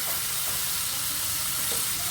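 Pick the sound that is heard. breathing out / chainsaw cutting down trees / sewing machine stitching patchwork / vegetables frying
vegetables frying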